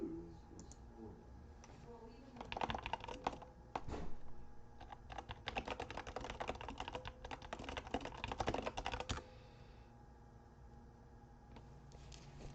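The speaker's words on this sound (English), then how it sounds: "Why am I even typing?" Rapid clattering keystrokes on a computer keyboard come in dense bursts with short pauses between them, close and fairly quiet.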